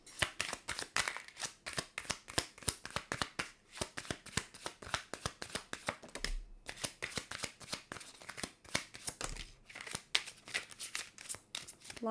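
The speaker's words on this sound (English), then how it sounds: "A lot of cards reverse flying out." Tarot cards riffled and shuffled by hand, a long run of quick crisp flicking snaps in steady bursts, close and clear with brief pauses between rounds, no talking.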